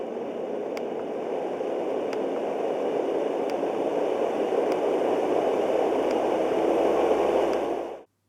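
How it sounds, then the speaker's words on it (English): A quiet white noise machine gives off a steady, even hiss that holds level for about eight seconds before cutting off abruptly, with faint periodic ticks underneath. "so it was one of the quietest white noise machines"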